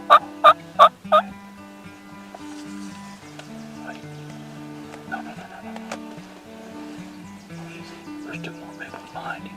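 Several wild turkey longbeards gobbling, with a burst of three loud, close gobbles at the start, then quieter rattling calls and faint sounds from the flock, including hens and jakes, mixed with low murmured talk.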